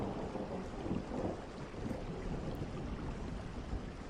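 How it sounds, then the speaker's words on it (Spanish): Steady rain falls in a continuous wash with a low rumble of thunder underneath, a soft, even hiss that stays constant with no voices over it. "el profundo y misterioso sonido de la lluvia"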